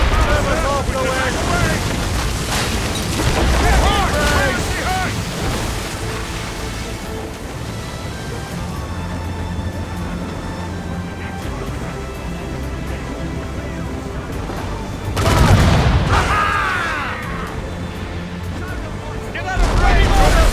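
Ship cannons in the naval game Assassin's Creed Rogue boom amid waves and wind, with a heavy blast near the end and another starting at the close, under loud shouted crew orders.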